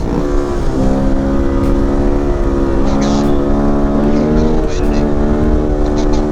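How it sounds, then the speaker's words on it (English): A 2020 Honda Grom motorcycle engine held at high revs during a wheelie, a loud steady buzzing drone with slight pitch wavers, close and continuous for the whole stretch. "I am like so at the highest point of this gear."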